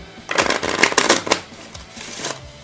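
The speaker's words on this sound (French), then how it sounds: "On va le mélanger rapidement de même." A deck of playing cards is shuffled quickly by hand during a card trick, giving a close, brisk riffle of fluttering card flicks that lasts about two seconds, with no talking.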